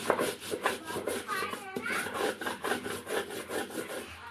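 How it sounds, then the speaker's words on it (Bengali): Fried dried fish heads ground on a grinding stone, a steady rhythmic scraping and rubbing repeated in quick strokes, close and fairly quiet, with some background voice and clatter. "শুকটার যে মাথাগুলো আছে যেগুলো ভেজে রাখা হচ্ছে ওগুলো বাটনার মধ্যে বেটে নিতে হবে"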